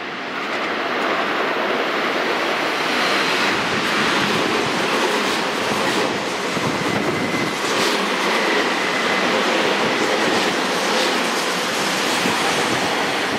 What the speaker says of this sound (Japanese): 東武3万系ですね。